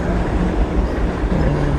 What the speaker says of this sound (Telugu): ట్రైన్ పోతుంది ఇప్పుడు